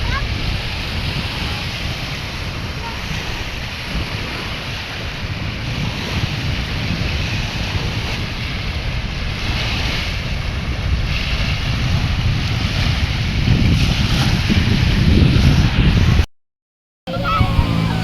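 Strong wind roars across Manila Bay with heavy surf crashing steadily, a dense, loud wash of wind buffeting the microphone over rolling waves for the whole stretch, broken only by a brief dropout near the end.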